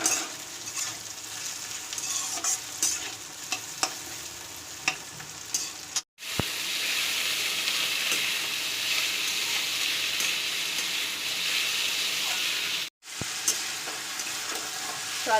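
Sliced vegetables with potatoes fry in a pan over a steady, close sizzle, with frequent clinks and scrapes of stirring, the sizzle surging louder in the middle stretch between two brief cuts.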